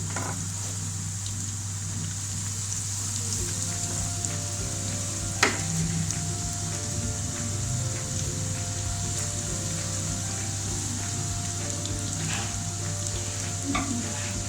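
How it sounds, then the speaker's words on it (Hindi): Egg-coated potato fries frying steadily in hot oil over a flame, a continuous close sizzle with a faint hum underneath and a single sharp clink partway through. "तीन या 4 मिनट इसको फ्राई करना है ताकि अच्छी तरह आलू हमारा गल जाए"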